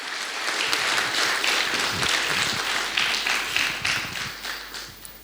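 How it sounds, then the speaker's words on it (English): Sustained, dense audience applause fills a TEDx talk hall at HITAM campus, greeting speaker Jhanvi Narang; steady and loud throughout, tapering slightly toward the end. "May I have a big round of applause to our speaker too"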